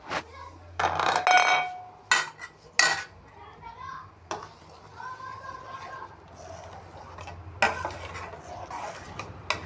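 Semiya payasam, with cardamom and sugar added, stirred with a metal spoon in a pot: sharp clinks and scrapes come in bursts between quieter stretches of low kitchen sound.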